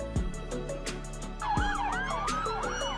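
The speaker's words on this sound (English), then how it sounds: "Police car." A police car siren wails in rising and falling sweeps, close and clear, with a short horn-like blast and background street noise underneath.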